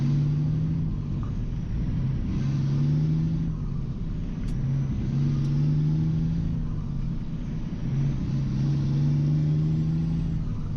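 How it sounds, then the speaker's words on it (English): Cab-interior rumble of a truck hauling beans to the elevator in town, a loud, steady low engine drone with a pitch that rises and falls gently as it drives, and no talking. "Put on a truck, now I'm hauling to town."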